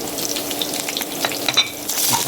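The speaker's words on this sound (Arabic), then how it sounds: "نكب البصل، نحرك كده لحد ما ياخد لون" Onions frying in plenty of oil in a pot while being stirred, a steady crackling sizzle with occasional scraping clicks, close and continuous with no talk.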